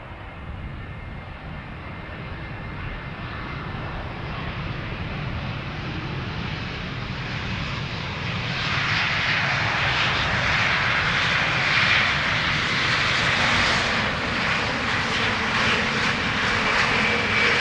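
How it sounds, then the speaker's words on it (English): Boeing 787 Dreamliner taking off at Amsterdam Schiphol Airport, a steady jet engine roar that grows louder and brighter as it climbs away, heard alone with light wind. "That is a Dreamliner that just took to the sky."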